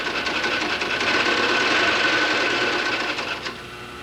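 A post sewing machine stitching leather shoe vamps runs in a dense, steady mechanical whir for several seconds, loud and close with no voices, then eases slightly at the end.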